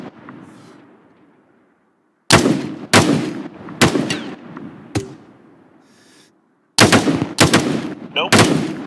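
Rapid bursts of gunfire in a team shootout, with several loud, close volleys and pauses between, a faint voice underneath early on.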